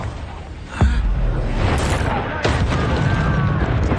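The Confringo blasting spell in Hogwarts Legacy goes off as a sudden heavy boom followed by crackling bursts and rumbling impacts, with a second blast a moment later, under game sounds and a voice talking.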